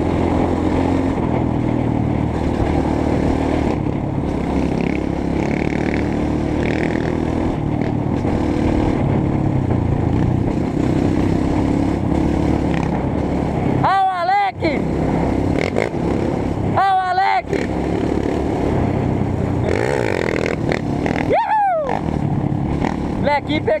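A group of fifteen trail motorcycles revs and accelerates in a steady, loud engine roar, with people talking over it and several sharp rising engine whines cutting through near the end.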